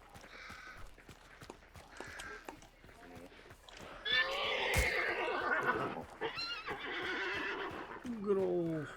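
A horse neighs loudly in a video game, a long whinny cutting in over steady game sounds and hoofbeats, with someone talking throughout the clip.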